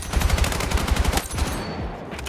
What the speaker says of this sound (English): this tap firing and bursting, now this depends on your weapon, it depends on your build